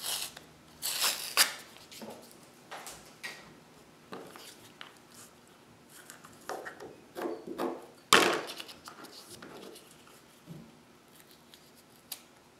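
Paper backing is scratched with a semi-sharp tool, then peeled away from June Taylor printer fabric: close, dry scrapes and rustling rips in irregular bursts, with one sharp tear partway through, over a quiet room.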